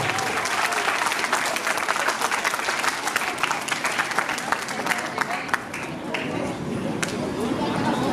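Audience applause rises at a school parents' meeting as a guest is welcomed, a dense, steady clapping from a large seated crowd with some murmuring and shuffling mixed in throughout.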